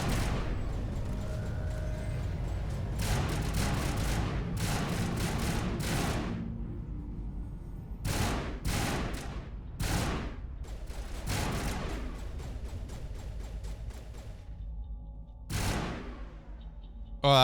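Gunfire in the video game Mass Effect Legendary Edition: repeated bursts and single sharp shots spread across the stretch, loud and close, some rapid volleys and gaps between.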